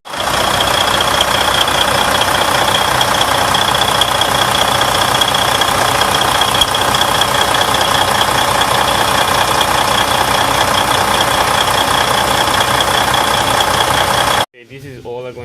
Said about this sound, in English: after that we're gonna start the engine